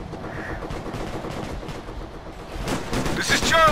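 Heavy gunfire in the video game Operation Flashpoint: Red River, a dense rattle of rapid shots and distant reports that swells louder toward the end, with shouted voices mixed in.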